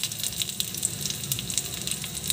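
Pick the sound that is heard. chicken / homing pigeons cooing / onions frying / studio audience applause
onions frying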